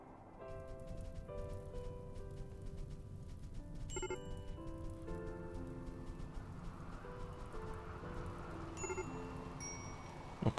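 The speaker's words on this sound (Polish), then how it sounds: "deszczyk pada" Soft, steady rain patters in the video game RimWorld, a faint continuous hiss mixed under gentle background game music with sustained melodic tones and a few light clicks.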